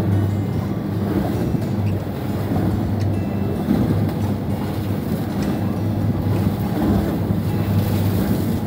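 Wind and waves around a sailing boat with lee boards at sea, water splashing against the hull; a steady, full rush of wind and surf continues without pause and without speech.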